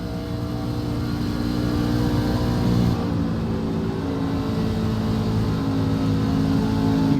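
NASCAR trucks racing at Auto Club Speedway in the iRacing sim roar with a steady, loud, continuous engine drone that barely changes in level from start to finish.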